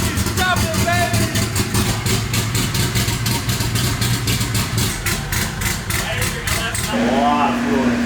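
A twin-turbo LS V8 swapped into a DeLorean DMC-12 idles loudly and steadily, rough and lumpy close up, with voices talking over it.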